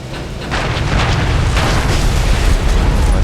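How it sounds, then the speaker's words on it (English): Bombs dropped from an S.79 Sparviero bomber explode in War Thunder, building into a loud, sustained roar of booming blasts that starts abruptly after a brief quiet moment and rumbles on without a break. "I'm going to drop some bombs now"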